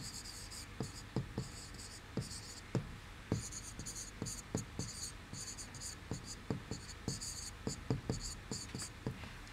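A pen or marker writes an equation by hand in a maths lesson, giving a faint run of short scratching strokes and taps in a steady irregular rhythm, alone in a quiet room.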